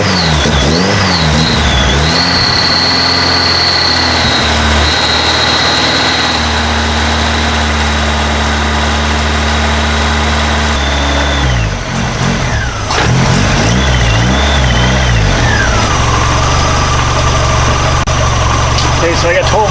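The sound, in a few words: hot rod car engine running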